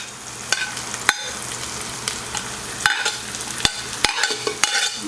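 Onions, garlic and peppers fry hard in a pan for spicy cassava meat fritters, with a bright continuous sizzle and repeated sharp spatula scrapes and taps, about half a dozen distinct strikes, close and alone without talk.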